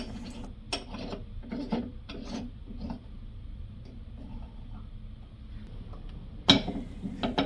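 Scraping, rasping handling of a retaining nut being threaded by hand onto a Delta RP73000 valve cartridge in a Delta Desmond kitchen faucet, with soft rubs and small clicks and one sharp knock near the end.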